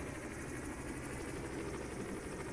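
Airbus H135 helicopter in a flight simulator game, a steady broadband rotor and turbine drone that holds even and continuous throughout, with no voices over it.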